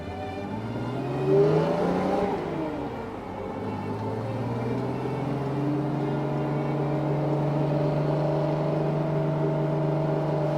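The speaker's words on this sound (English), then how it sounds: "it's sort of an attribute of the inline six engine, which is a naturally balanced engine." A 1968 inline-six car engine revs up, its pitch climbing briefly, then settles into a smooth, steady hum that holds loud and close.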